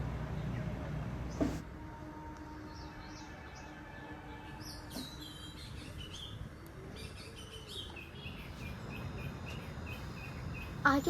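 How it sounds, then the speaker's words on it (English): An Indian Robin sings outdoors near Ranchi, Jharkhand, with faint, high chirps and short twittering phrases from the middle onward. Steady insect buzz and quiet ambient noise sit beneath it. "I can hear the sound of a bird."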